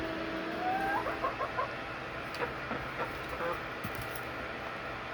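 Backyard chickens cluck softly as they peck at a treat of wilted salad with goat cheese, several short clucks and a rising call over steady outdoor background noise.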